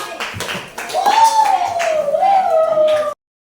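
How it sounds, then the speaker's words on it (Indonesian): Classmates clap together for four students in a classroom, a burst of quick hand claps near the start giving way to a voice calling out over scattered clapping before it cuts off abruptly. "Kasih tepuk tangan untuk mereka berempat."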